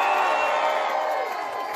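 A cruise ship audience on the Carnival Sunrise cheers for the second team, a dense continuous burst of shouting and whooping that tapers slightly over a couple of seconds.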